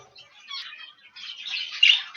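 Cock birds in a bird shed give a few short, sharp squawks and chirps in two quick bursts, fairly close and with no talking.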